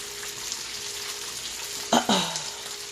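Jamaican saltfish dumplings frying in oil, a steady sizzling hiss up close, broken near the end by a couple of brief clunks and a short scraping sound.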